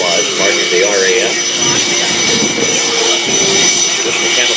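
CF-18 Hornet fighter jet in Battle of Britain paint at an airshow, its engine producing a steady loud roar with a sustained whine throughout, while a commentator talks over the sound.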